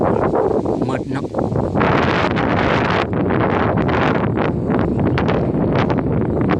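Strong wind gusts roar through a forest, buffeting the microphone in loud, rushing bursts that rise and fall continuously, with rustling foliage underneath and no distinct voices.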